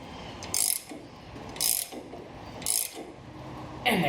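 A ratchet clicks in four quick bursts, tightening nuts on the suspension of a 100 Series Land Cruiser during an AHC delete. The bursts are close and crisp, with short pauses between them.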